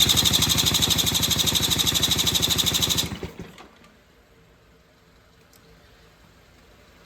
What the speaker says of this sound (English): I'm just directly firing up the starter motor off a 12 volt